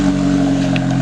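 A Chevy Cruze turbo engine fitted with an Injen cold air intake drones loudly and steadily for a moment, a close, sustained hum.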